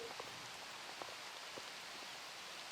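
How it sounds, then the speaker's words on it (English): Steady rain falls on an outdoor disc golf course, a soft, even hiss with scattered faint drop patter and no voices. "You can see the rain coming down here."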